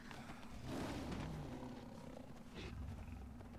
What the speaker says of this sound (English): Who's a good saber-tooth tiger?